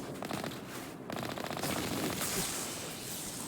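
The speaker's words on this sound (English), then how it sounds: "Oh my gosh, they're shooting!" Rapid bursts of gunfire in the Mass Effect video game, a dense, continuous crackle of automatic shots filling the whole stretch at steady loudness with no talking over it.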